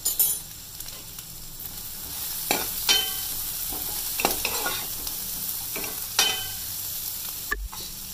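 Onions frying in a pan with grated garlic and salt, a steady soft sizzle with occasional sharper stirring scrapes and a light clink near the end.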